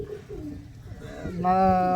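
An aged racing pigeon of the Karna Pura breed coos in a loft, its low rolling calls sounding close and rising near the end, with someone talking throughout.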